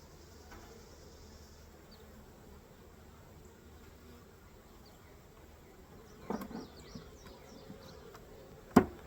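Honeybees hum faintly around an open beehive with eggs and young larvae, a soft steady buzz under quiet handling noises and a few knocks near the end.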